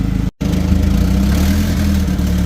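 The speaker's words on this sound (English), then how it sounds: "Then we're gonna move the big tractor over there" John Deere 8RX tractor engine running steadily at low revs while being repositioned, a deep close rumble with a brief cut at the start, then continuous drone.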